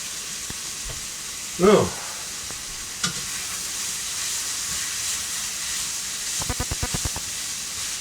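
Dried oregano sizzles in hot oil in a pan, a steady faint hiss of frying with a brief louder burst early on and a short run of clicks near the end. One short exclamation is voiced over it.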